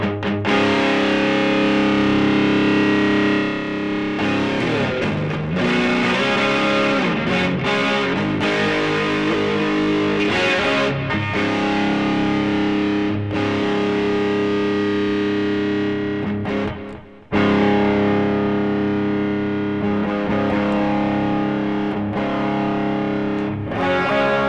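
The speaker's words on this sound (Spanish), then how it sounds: "Ahora miremos en el canal crunch overdrive, que es lo máximo que nos da." An electric guitar runs through a Jekyll & Hyde overdrive pedal on its crunch overdrive channel, giving loud, dense distorted chords that ring and sustain, with one brief break before the playing resumes.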